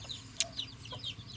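Large Belgian Leggy chicks making soft, faint clucking and peeping chirps, a few short calls in quick succession heard close by against a low background hum.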